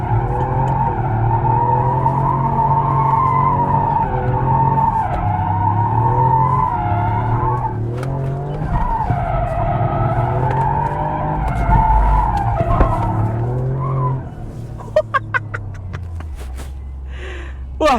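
A 2022 Toyota GR Yaris drifts on a closed drift circuit after a handbrake pull, its engine droning and revving under long, sustained tire squeal that shifts in pitch before a few sharp clicks and a quieter finish.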